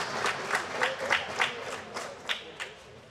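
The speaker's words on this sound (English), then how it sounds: "Let's have one more round of applause for our" A crowd at a high school ice hockey senior night applauds the seniors and their families. The clapping is faint and somewhat distant, with rhythmic claps rising and falling in regular pulses for a few seconds.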